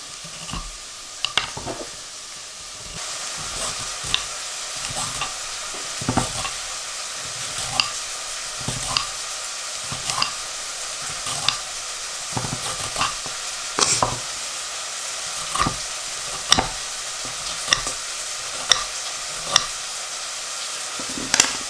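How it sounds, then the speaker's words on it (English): Onions sizzle steadily in a hot pan, with a utensil scraping and stirring at irregular intervals, close by and with no talking. "You can hear the sizzling of the onions."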